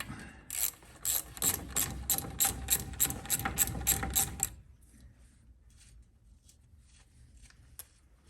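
Close ratchet clicking as a wrench loosens the castle nut on a Willys Jeep steering tie rod, about a dozen quick rhythmic swings with crisp pawl ticks, then quieter handling and faint clinks.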